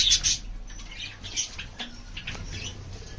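Pet parrots kept outdoors, a breeding pair with babies, squawk and chirp at close range: a few harsh, raspy calls and thin chirps, with light rustling and fluttering between them.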